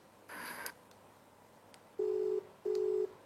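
A telephone call is placed: a short electronic tone, then two evenly spaced, clear steady ringing tones, loud and close, with no speech.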